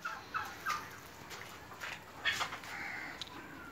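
Turkeys gobble on a large turkey farm that also keeps pigeons. The calls come faint and scattered over steady background noise, with no talk.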